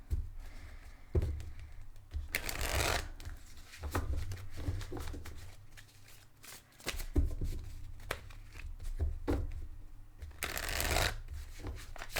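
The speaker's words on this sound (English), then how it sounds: "Shuffling for Gemini." A deck of tarot cards is shuffled by hand, giving repeated riffling bursts and soft taps and thumps at close range, with no talking.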